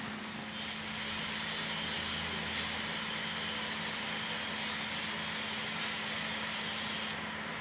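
Rust-Oleum Appliance Epoxy spray paint hisses steadily from an aerosol can onto a refrigerator, one long close continuous spray lasting several seconds before cutting off abruptly, with no talk.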